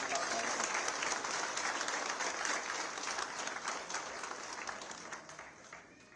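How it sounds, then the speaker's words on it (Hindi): A crowd of Indian expatriates at a welcome event in Dubai applauds the chief minister, steady massed clapping that stays strong throughout and slowly tapers off toward the close. "एक बार सब लोग आप हमारे युवा मुख्यमंत्री जी के लिए ताली बजा के सब"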